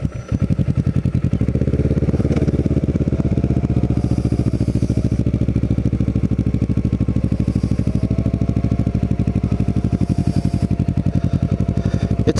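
Kawasaki Ninja motorcycle ridden around Cape May, its engine droning steadily and loud throughout with a continuous mid-pitched hum and faint wind, no talk.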